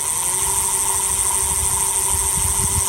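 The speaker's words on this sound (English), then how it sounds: "I'll just give it full throttle so you can get the sounds" DYU D3F 14-inch folding electric bike hub motor at full throttle, a steady loud high-pitched whine with a constant tone and a low rumbling undertone, close and unbroken.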